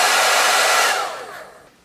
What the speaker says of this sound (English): with a hairdryer you can just get it dry quicker